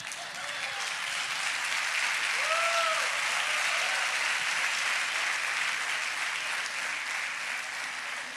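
Sustained applause from a church audience for a drawing just made on stage, a steady dense clatter of many hands that holds level throughout, with a few faint whoops rising above it.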